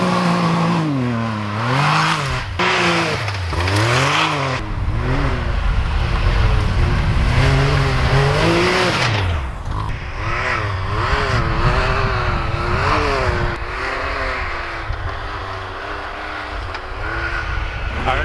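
A Ski-Doo Summit 850 snowmobile rides over a thin layer of snow, its engine loud and close, revving up and down in repeated sweeping surges before settling into a steadier, droning run.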